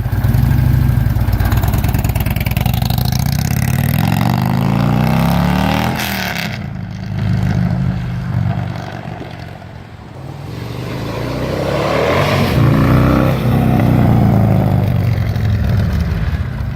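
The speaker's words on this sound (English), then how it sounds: "That 110-inch upgrade sure sounds nice, doesn't it?" A 2009 Harley-Davidson Tri Glide Ultra Classic trike with an upgraded 110-inch V-twin motor rumbles loud and close, its deep exhaust swelling as it accelerates, easing off, then pulling hard again.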